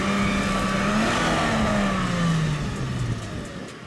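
Toyota Land Cruiser engine revving steadily on a slope while an unloaded front wheel slips, a loud continuous drone that rises slightly, then eases and fades toward the end.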